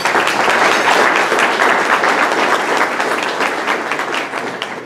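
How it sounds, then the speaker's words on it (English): A crowd at a golf charity event applauds a sponsor: dense, steady clapping from many hands that swells and then slowly fades over about five seconds. "I think he'll give him a nice round of applause"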